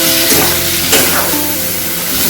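Spice masala for Bengali egg curry sautéed in a pan just after a splash of water: a loud, steady, close hiss of sizzling with faint stirring, and no voices.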